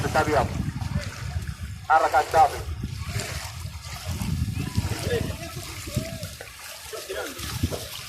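Sea waves splash and wash onto the shore at night on Jazan beach, bursts of surging water recurring every few seconds, with voices murmuring in the background.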